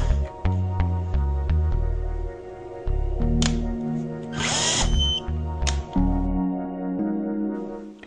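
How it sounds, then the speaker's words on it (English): A power tool drives a rundown screw into a Norbar torque screwdriver tester, a steady whirring motor with stepped pitch changes and short pauses over about eight seconds, close and fairly loud with no talk. "Then apply torque to the screw using the power tool."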